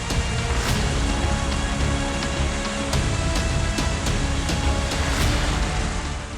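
Heavy monsoon rain in Pali, Rajasthan, during flooding, a dense, constant roar of downpour hitting surfaces with scattered sharper drip impacts, close and loud throughout.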